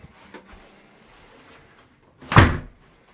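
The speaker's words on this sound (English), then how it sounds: "I'm going to shut our door." A single short, solid thump of a door being shut in a dark hunting blind, close by, after a quiet stretch of faint insect chirping.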